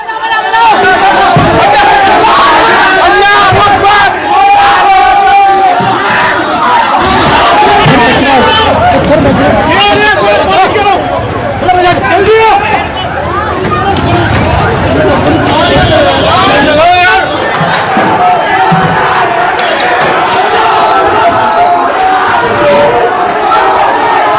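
A large crowd of rioters in Delhi throws stones at police, making a loud, dense, continuous roar of shouting and babble with scattered yells rising out of the din.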